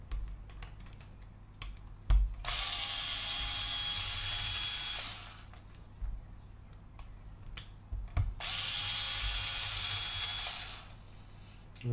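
Screws are driven out of the differential cover of a Kyosho Mad Van RC car in two bursts of a small powered screwdriver whirring close by, separated by light clicks and handling taps, with no talking.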